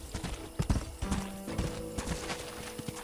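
Horse hooves clip-clopping in Red Dead Redemption, the video game, a steady trotting rhythm of close, distinct hoof strikes over a faint ambient background.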